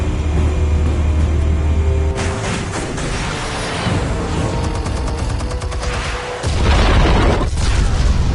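Explosions and heavy blasts in the Telltale Batman game, a loud, dense rumble with sharp bursts and a deep boom near the end, alone without talk.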